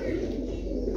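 A pigeon coos softly and continuously at close range, a low murmuring call with no talking.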